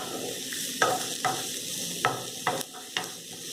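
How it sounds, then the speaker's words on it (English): Chopped garlic sautés in hot oil in a pan with a constant crackling sizzle, broken by several sharp scrapes and taps of a spatula stirring it. "You want to saute it till it softens and it changes color."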